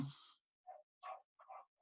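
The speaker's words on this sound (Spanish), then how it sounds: "también se percataron de unos perros ladrando" Dogs bark in a short series of four sharp yaps, fairly distant and with clear pauses between them, alone and with no one talking.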